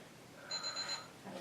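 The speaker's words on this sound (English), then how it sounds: "Sink into that position as we wait for our timer." A workout timer alarm beeps softly in a short run of high electronic tones, faint and alone during a full body stretching session.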